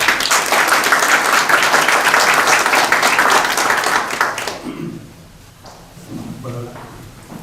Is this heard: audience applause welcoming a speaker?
yes